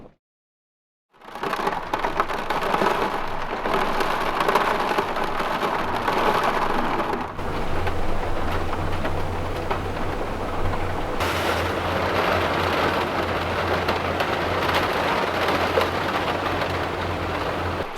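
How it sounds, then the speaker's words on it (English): Heavy rain and strong wind buffeting a camper van during a winter storm, a continuous loud roar of downpour and gusts with a deep low rumble throughout, no voices. "It's been raining like crazy through the night, and the wind has been insanely strong"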